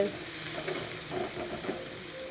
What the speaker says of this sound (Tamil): அதுக்கு வெங்காயம், தக்காளி, பெருஞ்சீரகம்லாம் போட்டு எண்ணெய் ஊற்றி நல்லா வதக்கிட்டுருக்கேன்